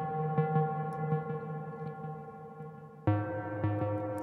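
A simple synthesizer voice patch built in VCV Rack plays sustained harmonic-rich tones, with soft rhythmic note attacks and a brighter re-triggered chord partway through, steady and alone without talk.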